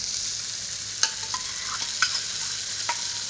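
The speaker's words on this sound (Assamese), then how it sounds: "মছলাখিনি ভালকৈ ভাজি লওঁ" Ground spice masala frying in a pan for a Kerala-style chicken curry, a steady close sizzle with a few distinct scrapes and taps as it is stirred, no voices.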